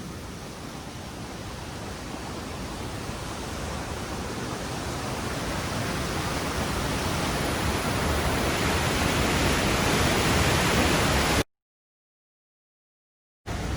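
Stafford Falls in Mount Rainier National Park pours in a steady, dense roar of falling water that grows slightly louder, then breaks off abruptly into silence near the end before briefly returning.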